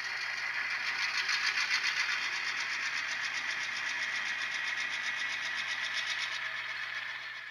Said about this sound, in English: I'm going to get it up to speed step five so you can hear the next notch in the motor sounds